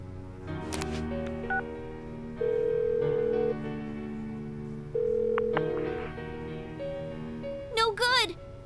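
A phone call is dialed in Persona 4 Golden, with a sustained tone, keypad beeps and two longer ringback tones under background music, then a brief chirpy electronic flourish at the end.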